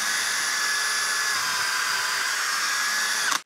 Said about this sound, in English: We're just gonna drill down through a piece of this.